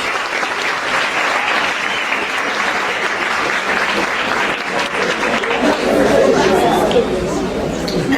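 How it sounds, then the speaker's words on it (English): A school audience gives a sustained round of applause for a student after her speech at a book handover, dense clapping mixed with crowd chatter and some voices, steady and loud throughout. "I really think she deserves a big round of applause."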